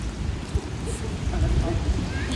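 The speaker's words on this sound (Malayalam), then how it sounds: "നല്ല മഴയാണ്" Heavy rain falls on a Zurich city street, a steady broadband wash with rumbling low noise and scattered drips, heard close and fairly loud.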